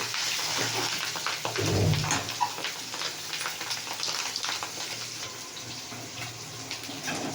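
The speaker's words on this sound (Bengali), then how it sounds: "তো ডিমটা মানে কাছাকাছি হয়েছে ভাজা" Steady crackling sizzle of an egg frying in a pan, continuous and fairly loud, with a brief low thump partway through and no talking.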